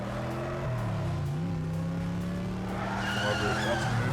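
Diecast toy cars racing and drifting on a track, with a sustained tire squeal and skidding whine over a steady rolling rumble while a commentator talks throughout.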